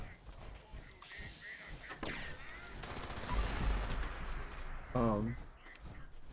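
Gunfire in the Fallout 76 video game near Watoga Station, a busy spread of shots and bursts at mid distance, with a louder blast partway through and another sharp report near the end, under a voice talking.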